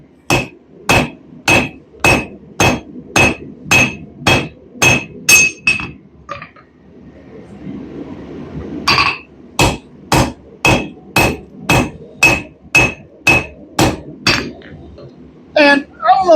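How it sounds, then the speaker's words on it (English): Sharp, evenly spaced hammer blows ring out on metal while a blade is worked, about a dozen loud clanging strikes, a short pause, then another steady run of blows. "So now all we got to start doing is hammering home."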